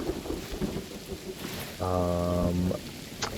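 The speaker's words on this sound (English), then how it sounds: "We got rain coming through the ceiling." Rain and thunder from the video game Hytale roll as a steady wash of noise, with a low rumbling swell in the middle of the short stretch and a brief sharp crack near the end.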